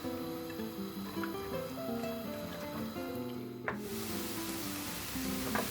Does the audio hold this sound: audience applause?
no